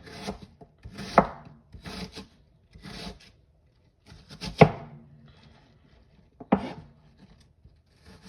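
Knife chopping beetroot on a board for a salad, a few separate clusters of crisp cuts spaced a second or two apart, close and moderately quiet with no talk.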